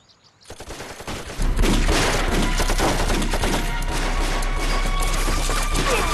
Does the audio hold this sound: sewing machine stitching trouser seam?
no